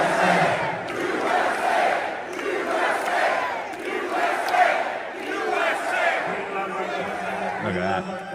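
A large crowd at a Trump rally in Wisconsin roars and chants continuously, loud and dense throughout, with shouting voices rising and falling in waves.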